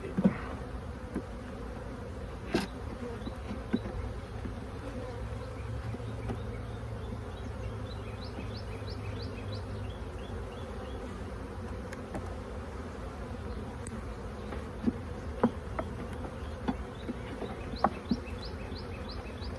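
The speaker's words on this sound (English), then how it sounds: "right now all the foragers are coming back, trying to figure out how the heck am I supposed to get into my hive" Honey bee foragers buzz around a hive during the first check of the season, a dense, steady hum that fills the scene, with individual bees passing close and louder now and then. No one speaks.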